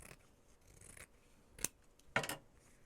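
Scissors snip through fabric while a softcover journal cover is made, giving two sharp, close cuts after quieter rustling and handling.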